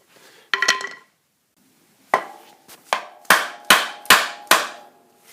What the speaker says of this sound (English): then I hit the wood.